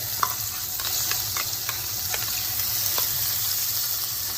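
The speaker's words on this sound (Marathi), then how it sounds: "आता ही पेस्ट तेलामध्ये परतून घ्या" Spice paste for methi matar malai frying in hot oil, a continuous close sizzle broken by repeated scraping stirs of a spoon in the pan, no voices.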